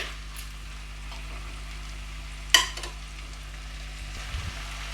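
Ingredients fry quietly in a pan under a low, steady sizzle, broken by one sharp clink of a spatula midway and a softer scrape toward the end.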